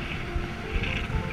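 Wind roars steadily during a cycling ride through the Vosges du Nord, a constant loud rush buffeting the microphone with brief low gusts and no voices.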